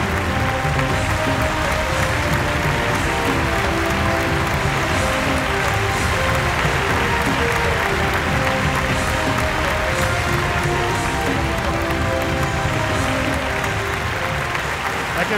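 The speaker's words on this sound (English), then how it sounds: "Another round of applause for Priyan Annasiri winning the best costume" A crowd at the Derana Lux Film Awards ceremony applauds a best costume win, with loud, sustained, dense clapping from many hands that continues evenly for around fifteen seconds.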